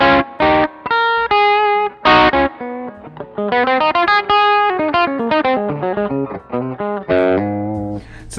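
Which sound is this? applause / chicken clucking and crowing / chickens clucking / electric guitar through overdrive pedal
electric guitar through overdrive pedal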